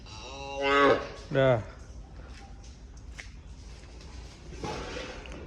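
Gir cows in a cowshed give two close, loud moos in quick succession, followed by quieter barn rustling and faint shuffling.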